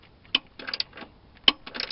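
Ratchet wrench tightening a fastener during a hands-on mechanical job: two short, sharp bursts of close clicking about a second apart, each with a few scattered ticks after it.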